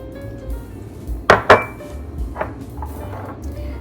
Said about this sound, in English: Then we'll mix our mayo.